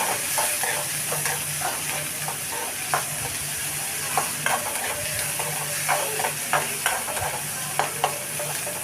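Onions with a pinch of salt sauté in a pan for noodles, a steady sizzle with frequent scraping stir strokes and clinks throughout, close and alone without talk.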